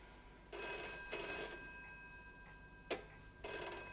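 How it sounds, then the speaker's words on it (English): An office telephone bell rings in two clear bursts, then after a pause a brief chirp and a third burst begin, loud and close in a quiet room. "That's your office phone."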